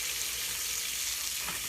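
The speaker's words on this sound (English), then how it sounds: "All that bacon we're cooking up, we're going to give it a flip." Bacon frying in a pan gives off a steady, close crackling sizzle that holds at an even level the whole time, with no voices.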